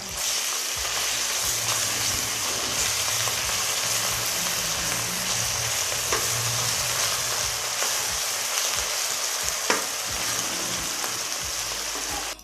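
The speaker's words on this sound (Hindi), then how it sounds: "लहसुन अदरक के पेस्ट को मैंने तकरीबन 30 सेकंड के लिए इसे फ्राई कर लिया है" Garlic ginger paste frying in a pan gives a steady, dense sizzle with a constant hiss, plus occasional sharp crackles and spoon scrapes, close and without talk.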